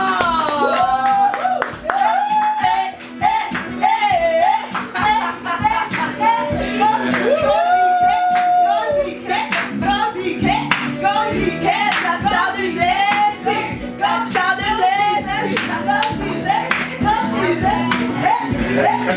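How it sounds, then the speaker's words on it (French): A church crowd welcoming a guest with rhythmic clapping, shouts and cheers, loud and close, while voices call out and sing over it almost continuously. "j'aimerais que sous vos acclamations, on puisse l'accueillir"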